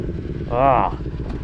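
A Kawasaki Ninja 400 KRT motorcycle on a Melbourne street gives a brief, near engine rev as it pulls away, rising and falling over steady wind and road rumble.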